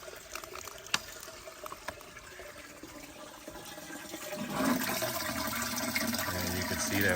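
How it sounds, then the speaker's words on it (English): Water turned on to flow by gravity through a leaf-catchment filter into a 10,000-gallon rainwater tank. A quiet, steady trickle gives way after about four seconds to a louder, continuous rushing pour. "And now we're going to turn the water on."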